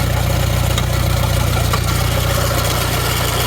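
An Allis Chalmers D12 Series II tractor engine runs with the PTO engaged, giving a loud, steady, close-up idling rumble with an even rhythmic throb.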